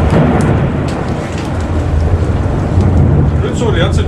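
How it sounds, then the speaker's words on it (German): A thunderstorm rumbles low and steady with continuous rain hissing over it, loud and close throughout, the rumble swelling and easing without a sharp crack. "der ganze Donnern und Grollen"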